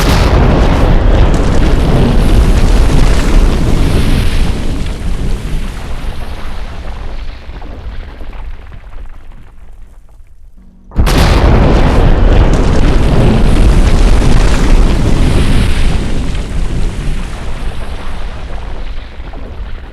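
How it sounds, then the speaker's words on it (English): A firework explosion produces a loud, sustained roaring boom that slowly fades over about ten seconds. An abrupt second blast follows and rumbles on at full strength, with no voices. "the initial explosion causes a supersonic expansion of gas, which causes a serious drop in pressure or partial vacuum behind."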